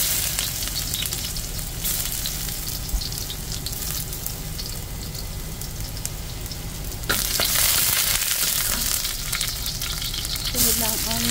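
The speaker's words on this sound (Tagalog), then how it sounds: "Pwede tayo maglagay ng konting mantika. Diba? Super init. Kaya natin yung ating garlic." Garlic fries in very hot oil in a wok, a loud, dense sizzle close up that swells sharply partway through and stays strong, with a faint clink near the end.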